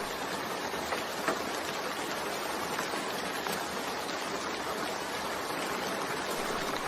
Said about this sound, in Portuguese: Está gostando do barulhinho de chuva no final da nossa conversa?